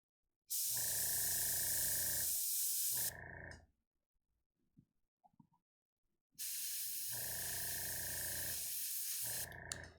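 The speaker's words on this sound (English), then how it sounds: "And with airbrushing, it's definitely lots of layering work." Airbrush spraying paint onto a miniature rock golem, a steady loud hiss in two long bursts separated by a few seconds of near silence with faint handling clicks.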